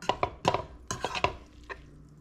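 A spoon stirs Reuben ingredients in a pot, giving a close run of sharp scraping clinks and knocks in an uneven rhythm that fades out near the end, with no talking.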